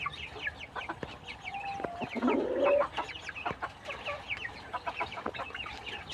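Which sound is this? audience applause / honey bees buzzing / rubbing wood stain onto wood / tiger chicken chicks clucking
tiger chicken chicks clucking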